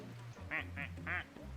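Short quacks from a duck in a video game, three brief nasal calls in quick succession, close and distinct.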